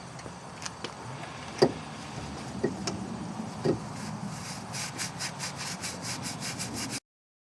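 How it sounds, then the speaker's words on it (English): Sandpaper scrubbing out the wheel hub bore of a 2003 Chevrolet Impala, a steady rasping rub close up, with a few sharp knocks early on and quicker strokes toward the end. "And we're going to clean out in here with sandpaper."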